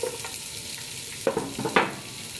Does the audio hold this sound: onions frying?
yes